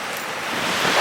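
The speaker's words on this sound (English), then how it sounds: "I think the sea is actually going out" Broad hiss of sea waves washing at a harbour side as the tide goes out, a steady close wash that swells slightly toward the end, with no voices.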